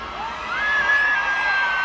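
A concert crowd screams and cheers in a sustained, loud wash of voices, with one piercing high scream standing out above the roar.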